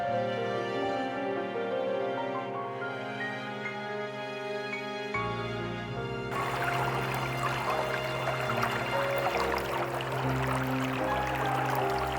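Water pours and rises steadily in a cartoon, a continuous gushing flow that grows fuller and noisier about halfway through, with no voices.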